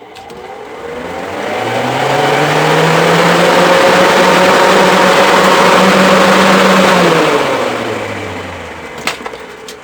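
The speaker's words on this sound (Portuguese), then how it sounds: "Esse aqui é um motor que está funcionando." A single-phase bivolt electric motor converted into a water pump spins up, runs with a steady whirring drone for several seconds, then winds down, loud and close.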